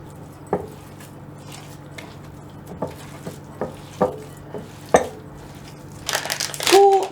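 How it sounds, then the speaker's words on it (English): Hands squish and mix sausage meat filling in a bowl, making soft wet squelches and a series of irregular taps and knocks over a low steady hum, with a louder rustling burst at the end. "I'm just going to dive in with my hands and mix it all up."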